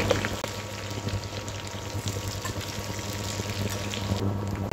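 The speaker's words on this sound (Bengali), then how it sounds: "এখন এগুলোকে 3 থেকে 4 মিনিট ভেজে নেব, যাতে আমলকির গায়ে থাকা এক্সট্রা পানিটা চলে যায়।" Amla (Indian gooseberries) frying in a pan to drive off surface water, giving a steady, moderate crackling sizzle with faint scattered pops, close and continuous with no voices.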